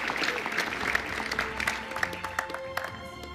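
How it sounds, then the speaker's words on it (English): Audience applause at a men's handball championship qualifiers draw ceremony, brief scattered clapping with individual claps standing out, fairly close, with faint voices under it. "This is your applause."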